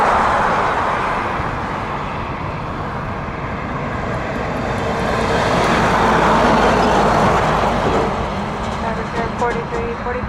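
A DHL Boeing 777F cargo jet at Toronto Pearson airport gives a broad, loud jet roar that swells and then eases over several seconds, with voices talking over it.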